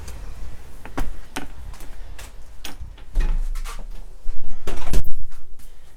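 A series of sharp knocks and clicks from a door being handled and opened, then a rustling, scraping stretch of movement nearby.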